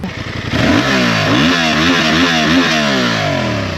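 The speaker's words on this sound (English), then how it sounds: "I'll try and find some footage of some revving of the engine for you" A Honda Transalp 750 motorcycle engine revs up and holds at high pitch, rising and falling in quick throttle blips, loud and close.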